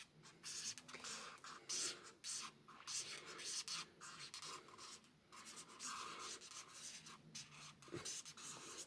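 Pencil or pen drawing on paper for a hand-drawn science sketch gives steady scratchy strokes in short repeated bursts, close and soft throughout, with no talk.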